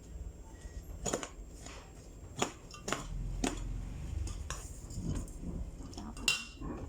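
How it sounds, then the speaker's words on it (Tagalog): A fish mixture for lumpia is stirred in a pot, giving scattered metallic scrapes and clinks of a utensil against the pot, irregular and fairly close, with a low background hum. "Haluin natin siya."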